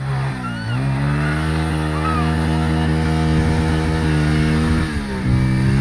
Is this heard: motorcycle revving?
yes